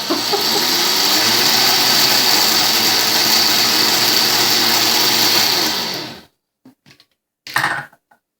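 An Oster blender grinds peanuts into peanut butter, a loud, steady whirring roar for about six seconds that cuts off abruptly, followed by a few faint scrapes and knocks.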